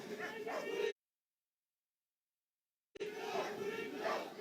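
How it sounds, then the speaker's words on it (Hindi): Indian-breed Rampur Hound and Mudhol Hound dogs bark loudly during a security-force crowd-control demonstration at the 2022 National Unity Day parade in Kevadia, Gujarat. The barking and crowd noise come in two bursts separated by a two-second silence. "रामपुर हाउंड और मुधोल हाउंड जैसे भारतीय नस्ल के श्वान"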